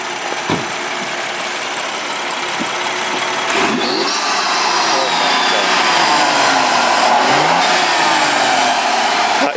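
A BMW M235i engine fitted with a performance intake revs hard several times, rising and falling in loud, rough bursts over a steady idle.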